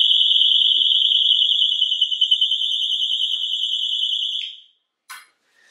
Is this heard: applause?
no